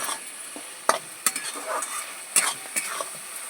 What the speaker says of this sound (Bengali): মশলাটা কিন্তু খুব ভালো করে কষিয়ে নিতে হবে